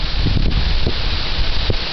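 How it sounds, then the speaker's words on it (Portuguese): Strong gusting wind through banana tree leaves at a rural house in Matriz, Ceará, making a steady broadband rustle and roar with brief low buffets against the microphone, no voices. "A ventania que da bananeira não aguenta."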